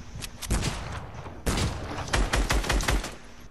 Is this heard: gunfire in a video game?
yes